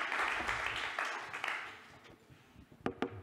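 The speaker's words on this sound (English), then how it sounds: "I think we can applaud you." Audience applause for a speaker at a conference on passwordless security and identity verification, a dense burst of clapping for about two seconds that thins out into scattered claps.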